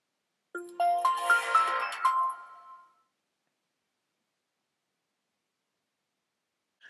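A Samsung Galaxy S5 phone plays its startup sound: a bright, clear chiming jingle lasting about two seconds, followed by silence.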